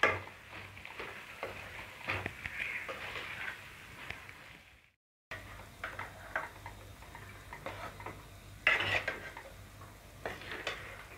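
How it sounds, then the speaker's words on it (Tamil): Tomato rice being stirred into gravy in a pan, with soft scraping and light ticking spoon strokes throughout, a brief silent gap midway, then steady stirring resumes close by. "சாதம் ஃபுல்லாக இந்த கிரேவி படுற மாதிரி நம்ம கிளறி விட்டுப்போம்"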